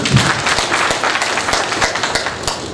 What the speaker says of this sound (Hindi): एक बार ताली बजा दीजिए मेरे लिए